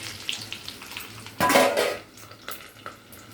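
Chana dal, urad dal and garlic frying in hot oil for tempering, a soft sizzle under clinks of a spoon against the pan and one louder scraping stir midway.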